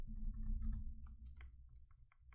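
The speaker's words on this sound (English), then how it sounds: "if I clickety-clack here, very quiet" Soft, muffled keyboard keys pressed in a quick irregular patter, quiet and close, over a low steady hum.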